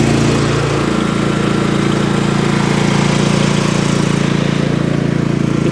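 A Champion 8750 tri-fuel generator running just after startup on a cold, windy day, a loud, steady engine drone with constant vibration throughout.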